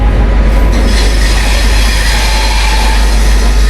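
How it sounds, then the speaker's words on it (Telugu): An all third-AC Humsafar Express, Tirupati to Jammu Tawi, pulls into the platform with a continuous heavy rumble, squealing wheels and faint clickety-clack of coaches, loud and close throughout, no voices. "మన ట్రైన్ ఆగమనం ప్లాట్ఫామ్ పైకి."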